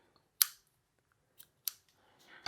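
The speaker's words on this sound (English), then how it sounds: "So all we need to do now is cut the yarn" Scissors snip crochet yarn in a quiet room, a crisp close cut followed by two lighter clicks of the blades and a soft rustle at the end.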